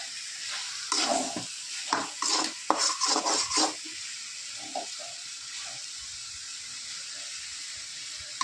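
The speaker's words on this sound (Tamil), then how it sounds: "நல்லா இதை வதக்கி விடணும்." Chicken gravy being stirred and sautéed in a pan, with scraping spoon strokes and light sizzling in a busy burst early on, then a quieter steady simmer with occasional clinks.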